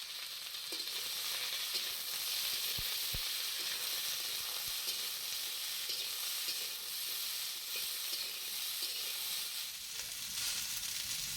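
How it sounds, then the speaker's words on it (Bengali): Potatoes and ash gourd stems frying in hot oil in a wok, a loud, steady close hiss and sizzle with a few faint stirring clicks, and no talking. "কড়াইয়ে গরম তেল দিয়ে আলু এবং ডাঁটাগুলিকে একসাথে ভেজে নেব।"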